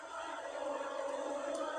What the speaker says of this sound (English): the applause are ringing round for an iconic Sunderland figure